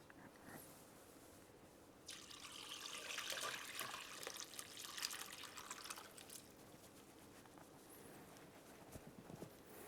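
Homemade fish stock poured through a sieve into a clean pot, a soft steady splash and trickle of liquid that swells midway and then tapers to dripping, faint and close.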